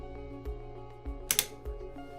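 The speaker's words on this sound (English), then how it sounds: "pull down the frames and brackets until they click and lock into position" Savoy bed rail frames and brackets being pulled down produce a series of light, crisp clicks as they lock into position, over a steady tonal background.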